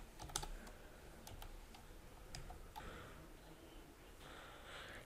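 Quiet, rapid keystrokes on a computer keyboard come in uneven bursts while someone types out poll options, with no speech over the clicking.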